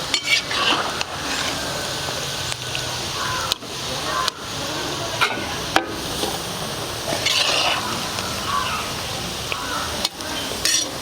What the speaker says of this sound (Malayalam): ഇനി നമുക്കതിലേക്ക് ബീഫ് കുറേശ്ശെയായിട്ട് ഇട്ട് വറുത്തെടുക്കാം.